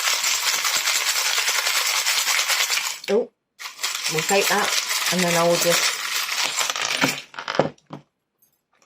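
Small metal charms rattle and clink in a steady shaking rush, then a few separate jingles and taps; a voice speaks briefly in the middle.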